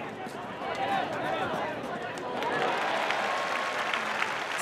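A crowd at Nagoya Stadium applauding a Dragons reliever taking the mound for a farm-team final game, a broad, sustained roar of clapping swelling slightly midway, with a voice talking over it.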